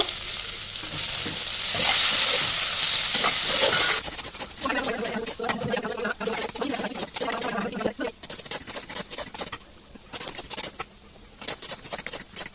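Sliced onions sizzle and crackle in hot oil for a Bengali beresta, a loud steady frying hiss with dense spattering that turns busier and more uneven partway through, along with occasional stirring noises.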